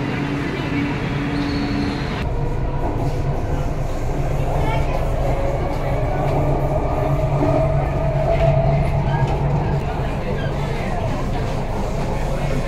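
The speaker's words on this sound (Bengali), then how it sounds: "এই হচ্ছে চেন্নাই মেট্রো" A Chennai Metro train running, a loud steady rumble with a rhythmic rattle throughout, heard from inside the carriage.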